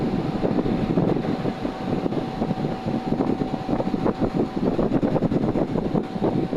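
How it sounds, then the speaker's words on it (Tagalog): A loud, steady mechanical whir of a large fan runs throughout, with a faint constant hum and no talking. "malaki yung ventilador namin tingnan nyo malakas yung ng makina"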